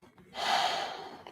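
One long deep breath, drawn in and let out audibly while holding a deep squat, close and fairly soft, with a faint click at the end.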